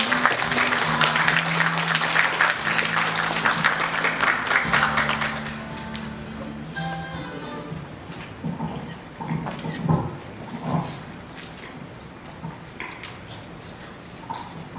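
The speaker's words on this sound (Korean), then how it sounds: "박수와 함께 오시겠습니다" Applause at a science information service launch event as a presenter comes up, dense crowd clapping for about five seconds that then thins into scattered claps, footsteps and small handling noises.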